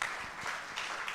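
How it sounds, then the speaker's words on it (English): An audience applauding at the end of a conference session on patient safety and infection prevention, a faint steady patter of clapping from many hands in a room. "maybe an applause for everybody"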